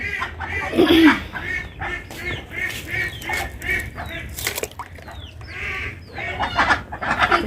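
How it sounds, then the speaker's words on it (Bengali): Many ducks quacking and calling loudly together, a continuous noisy chorus of repeated nasal calls close by. "হাঁসগুলো খুব ডাকাডাকি করতেছে ঘরে ওঠার জন্য"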